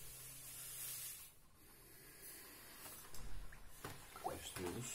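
Two kilograms of sugar pour into warm water to make syrup for bees, giving a soft, steady granular hiss that runs throughout and grows louder and more uneven near the end.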